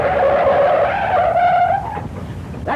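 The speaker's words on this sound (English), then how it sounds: "Here comes the car now." A powerful-motored car from a 1934 film serial arrives with a loud, close tire squeal and skid. The pitch rises as it comes in, then it settles to engine noise and a final short squeal, with no talking.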